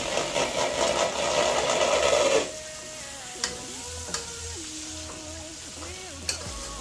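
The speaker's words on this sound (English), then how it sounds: "When I add my black pepper, I'm going to stir it. Stir everything together." Ackee and chicken back with black pepper sizzle in a pot, loud at first, then quieter, with a few sharp spoon knocks and scrapes from stirring over a faint low hum.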